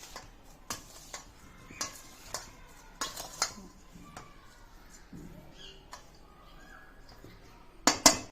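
A spoon clinks and taps against a bowl while coconut filling for karanji, a Maharashtrian sweet, is mixed, giving a dozen or so light, irregular ticks, then a brighter rattle of clinks at the end.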